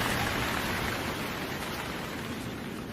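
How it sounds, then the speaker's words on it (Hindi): Heavy rain in cold weather, a dense, steady hiss of downpour that holds even and fairly close with no voices and no letup. "हे भगवान, इतनी ठंड में यह जोरदार बारिश तो हमारी जान ही ले लेगी।"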